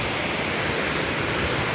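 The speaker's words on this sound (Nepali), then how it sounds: "यस्तो छ झरना" A village waterfall roars as a dense, steady wash of falling water, loud and continuous throughout, with no voices.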